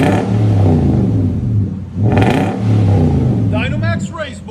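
A Nissan Titan 5.6L V8 fitted with Dynomax race bullet exhaust revs up close and loud in two deep, rumbling surges with a brief dip between them, and voices are heard near the end.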